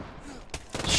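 Gunfire bursts in the Post Scriptum World War II shooter game, sharp cracks and a rising rattle of shots toward the end, loud and close.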